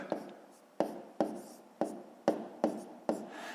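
Pen or pencil on paper writing numbers for a multiplication sum, about seven crisp strokes at an uneven pace, close and clear with no voice.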